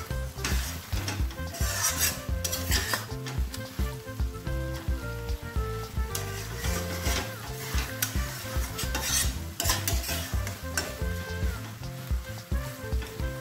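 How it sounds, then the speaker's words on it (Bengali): Masala being stirred in hot oil for Chettinad prawn curry, sizzling and scraping steadily and close by throughout, with a busy tonal layer running underneath. "তেলটা মোটামুটি ছেড়ে এসছে, আর আমি ঢাকবো না, নেড়ে দিচ্ছি।"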